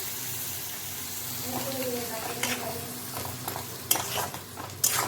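Paste of two tomatoes is added to spices frying in a pan for a homemade chhana curry. A moderate sizzle is stirred with scraping strokes that grow sharper toward the end, and a faint voice is briefly audible.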